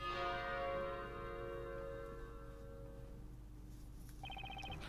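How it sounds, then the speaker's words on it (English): A bell of pure silver rings out in the video game Professor Layton vs Phoenix Wright, its long sustained tones fading slowly over a low rumbling background, with a brief chime pattern near the end. "After the bell sounded"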